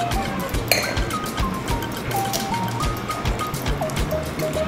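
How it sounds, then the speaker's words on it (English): Frothy Copacabana rum cocktail poured from a shaker into a glass, a continuous liquid splash with light clinks of glass and ice, moderately loud and close, with no talk. "you'll see when I pour this, the froth and foam that you get from this particular cocktail"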